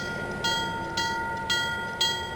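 A model train rolls along steadily on a layout with a faint hum, its wheels clicking at four evenly spaced joints.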